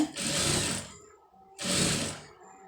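A sewing machine stitches readymade piping in two bursts of steady, buzzing mechanical running, each lasting under a second, with a short quiet pause between them.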